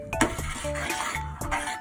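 Spoon stirring rice flour into a cooling apple and turnip curry mixture in a pot, with repeated scraping strokes and light clinks against the pan, close and steady, no talk.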